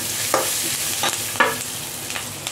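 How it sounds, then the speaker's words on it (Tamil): Garlic sizzles in a pan while being cooked for a potato masala to go with poori, a steady close frying hiss broken by several short scraping stirs, with no talking. "பூண்டு ரெண்டு போட்டுக்கலாம்"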